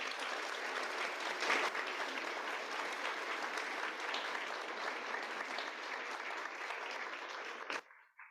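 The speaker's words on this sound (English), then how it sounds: "Let's give them some applause." An audience applauds donors at an author event, a steady, dense wash of clapping that holds for about eight seconds before cutting off abruptly.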